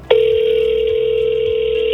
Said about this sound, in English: Let me phone them.